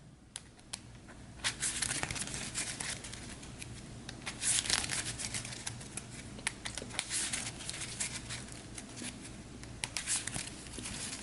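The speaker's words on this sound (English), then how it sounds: "So we'll give this a quick shuffle." Cards from a tabletop card game shuffled by hand: a steady papery riffling and shuffling with crisp flicks running throughout, close and moderately loud, with no voices.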